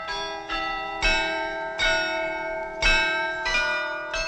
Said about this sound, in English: they have the Glockenspiel, the bells playing songs.